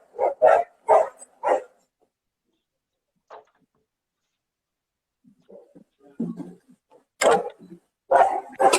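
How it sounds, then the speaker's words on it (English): A neighbour's dog barks in short bursts, a quick run of four barks, a lone yip, then softer whimpering yelps before more loud barks, fairly close and with no talk. "you got to have word with your neighbour's dog"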